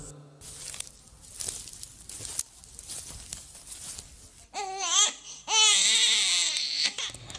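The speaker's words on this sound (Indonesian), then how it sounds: "Mengapa ada suara tangisan bayi?" During a school stage play of the Tangkuban Prahu legend, an infant's crying breaks out in wailing bursts over the last few seconds, loud and near, after a stretch of rustling stage noise.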